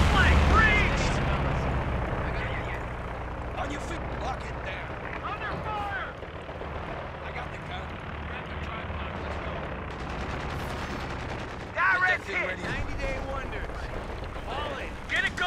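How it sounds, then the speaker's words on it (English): Incoming rocket barrages in Company of Heroes 2, a 3v3 WWII battle with US infantry, bursting as a dense, loud, continuous roar of explosions and gunfire, with players shouting over the chaos. "That's incoming rockets!"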